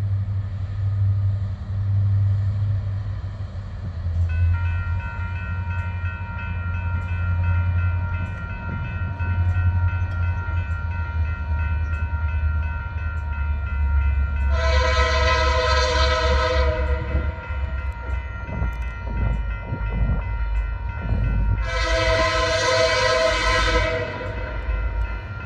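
Freight train rumbling steadily past with a low rolling drone, while a loud multi-tone horn sounds in two long blasts partway through; no speech.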